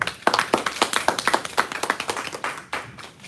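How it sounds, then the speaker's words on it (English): A small audience at a Toastmasters meeting claps in a quick, uneven patter, close and moderately loud, thinning out toward the end. "A round of applause for him, please"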